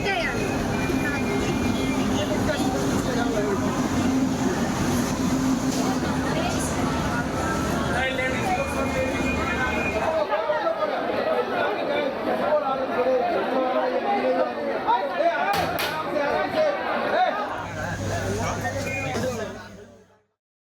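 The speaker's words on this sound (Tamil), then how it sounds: "திருப்பூர் ரயில் நிலையத்திலும் வடமாநில தொழிலாளர்கள் கூட்டம் அலைமோதுகிறது." A dense crowd of migrant workers packs the Tiruppur railway station, a constant murmur of many overlapping voices and chatter that thins midway and fades out at the end.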